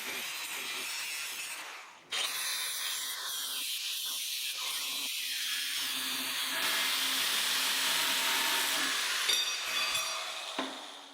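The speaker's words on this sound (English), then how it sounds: "This leaves a rough edge on the tubing, which was then cleaned up with a flat disc" A flat disc grinds the rough cut ends of steel tubing on a rear bumper for a Jeep XJ Cherokee, giving a loud, continuous abrasive rasp that briefly dips near the start, then holds steady at close range.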